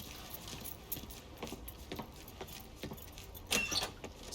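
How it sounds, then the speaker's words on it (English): Keys jangle briefly as they are grabbed in Mafia 3, a short bright metallic rattle standing out near the end over a low, steady game ambience. "Hey, man, grab those keys."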